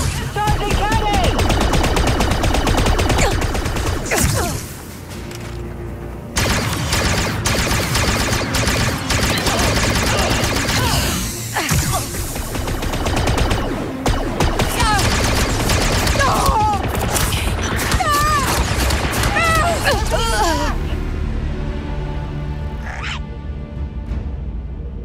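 Blaster gunfire in the Star Wars Outlaws game, rapid bursts of sharp shots and zaps over a busy combat backdrop, loud and near, with voices calling out between volleys and a quieter stretch at the end.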